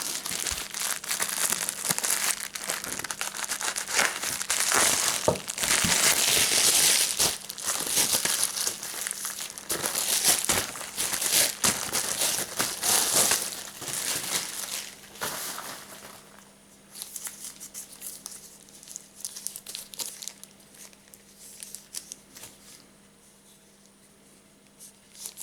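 Packaging around a leather-sheathed Viking seax knife being torn open, heavy tape and wrapping crinkling and crackling continuously and close up, loud for about fifteen seconds before thinning into softer, scattered rustles.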